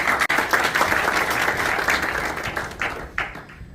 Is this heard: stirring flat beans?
no